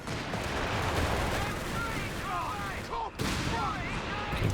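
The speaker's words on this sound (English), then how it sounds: "Okay, got some base howitzers coming in." Base howitzer barrage in the World War II strategy game Company of Heroes 3, a dense rumble of distant shelling and gunfire that continues throughout, with a sudden sharp break near the end before the din resumes.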